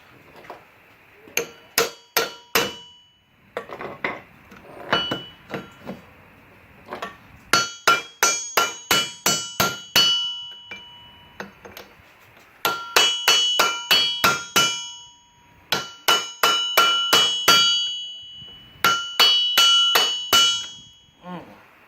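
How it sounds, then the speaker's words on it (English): Repeated sharp metallic hammer strikes on a socket extension, driving a U-joint out of a Jeep Cherokee, in quick bursts of several blows separated by short pauses, ringing close and clear with no speech. "See if I can hammer that bitch out of there."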